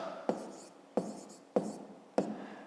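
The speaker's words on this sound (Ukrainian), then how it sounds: "Записуємо собі" A maths solution being written by hand for a fifth-grade exercise: four evenly spaced sharp pen-on-paper taps, each followed by a brief scratchy stroke, close and quiet with faint voice in the background.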